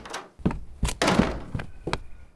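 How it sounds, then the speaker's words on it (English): A door thumps shut several times in a home, with a child arriving home from school: sharp, close knocks and bangs in an uneven run, loud and without speech. "What did I say about slamming doors?"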